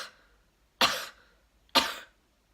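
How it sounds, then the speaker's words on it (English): Two sharp, forceful coughs from one person during a core reflex test, spaced about a second apart, each a loud burst that trails off, with quiet in between. "I want you to do 5 or 6 coughs"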